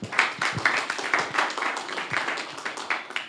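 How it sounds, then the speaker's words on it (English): An audience at a neurosurgery conference in Uganda claps in brisk, fairly even bursts, a moderately loud, close rhythm of many hands that holds steady throughout. "Let's clap for them."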